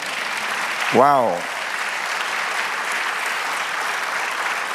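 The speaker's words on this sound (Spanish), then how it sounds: "Denle un aplauso al Señor." Steady applause from a church congregation fills the whole span, a dense even roar of clapping; one voice briefly exclaims over it near the start.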